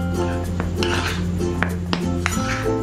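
Dry flour ingredients stirred together in a bowl for a cake batter, with steady scraping and light clinking of a utensil against the bowl, close and continuous.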